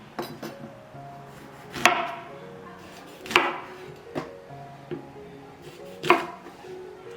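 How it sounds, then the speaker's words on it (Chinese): A knife halves kumquats on a cutting board, making four or five sharp, fairly loud chops with quiet pauses between them and no talking. "洗好了，对半切开。"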